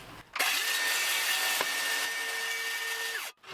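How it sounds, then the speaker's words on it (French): A circular saw whirs up and runs at a steady high whine for about three seconds while cutting a wooden board along guide rails, then cuts off, nearby and alone. "j'ai juste à allumer la scie circulaire et l'avancer dans les rails"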